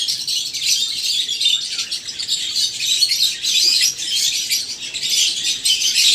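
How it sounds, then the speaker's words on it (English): Java sparrows in an aviary at an aquarium, giving a dense, continuous chorus of high, overlapping chirps and twitters that stays busy throughout, with no talking. "We have Java sparrow as well."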